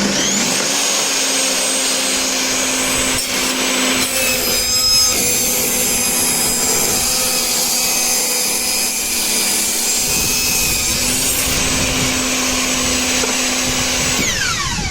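A table saw runs loud and steady for about fifteen seconds, its whining motor tone holding under a harsh rasp as the blade rips a thin wood strip, the 3 to 5 millimetre cut grinding on continuously without pause.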